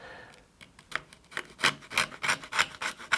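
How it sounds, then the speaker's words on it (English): Old glue being scraped off an original Game Boy with a hobby knife, a series of close, dry, rasping strokes that start sparse and grow quicker and louder, with no voices. "I don't feel comfortable scraping old glue with the screen directly beside it"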